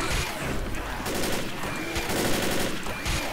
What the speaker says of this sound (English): The mounted gun is practically useless here.